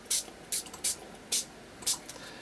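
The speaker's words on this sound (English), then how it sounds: "I'm just going to spritz over, make a bit of a mess" Spray ink spritzed from a handheld bottle onto paper in about five quick, close hissing bursts with short pauses between, no talking.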